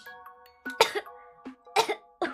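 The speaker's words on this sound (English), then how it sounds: "My cough still hasn't gone away either, obviously." A woman with a lingering cough coughs several times in quick bursts, close and loud, with throat clearing between the coughs and a faint tonal hum behind.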